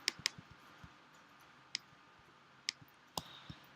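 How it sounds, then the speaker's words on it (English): Sharp, separate clicks of a computer mouse during digital mandala painting. A quick double click opens the passage, then single clicks follow at uneven gaps of about a second. Each click is close and crisp against a quiet room. "I'm going to click away, change color"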